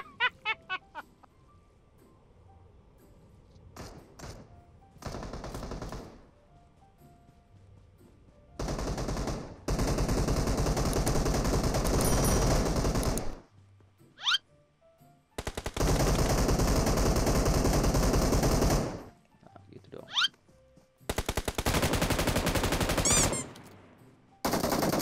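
Bursts of automatic gunfire in the mobile battle royale game PUBG Mobile, several loud sustained volleys of a few seconds each separated by quieter gaps, with short isolated shots early on.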